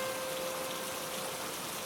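Soft, steady rain falling on a June rainy-season evening in Kobe, an even hiss of drops with a faint steady tone underneath and no voices.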